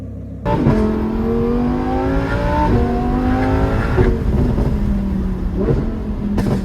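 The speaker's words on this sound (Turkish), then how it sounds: "Egzozumuzun sesi de harika oldu." A modified Lamborghini Huracan exhaust revs hard after a brief silence, engine pitch climbing and dropping in several loud, close bursts.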